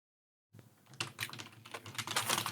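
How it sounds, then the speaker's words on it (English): Fingers type quickly on a computer keyboard, a close run of crisp irregular clicks and taps that starts suddenly after a short silence and continues densely, with no voices. "You're quicker at typing than I am."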